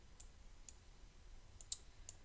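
Several light, quiet mouse clicks spaced irregularly over a soft background hiss, with one slightly sharper click near the end and no talking.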